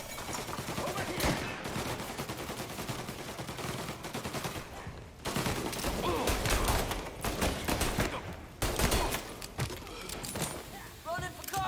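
Gunfire in Mafia Definitive Edition: rapid bursts of shots and fusillades, loud and close, with voices shouting over the shooting in a chaotic firefight.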